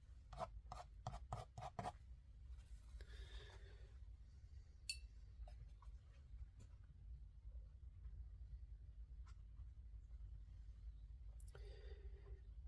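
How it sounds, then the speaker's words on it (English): A painting knife or dry brush scrapes and drags across a landscape canvas in a few soft, close rasping strokes, quickly clicking at first, then slower scrapes over a low background hum. "Add a little bit of scrape, see if we can get some extra marks in there."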